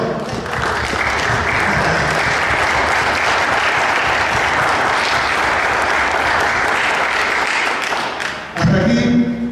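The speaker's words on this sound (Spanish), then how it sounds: "Den un fuerte aplauso al Señor." Loud, sustained applause from a church congregation fills the space steadily for about eight seconds, then drops away abruptly as a voice begins speaking at the end.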